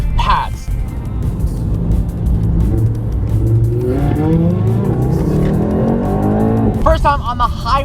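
A tuned 700 hp 2018 Mercedes-AMG E63 S on a highway accelerates with a rising engine roar through the gears, loud and close, with a person talking briefly at the start and end.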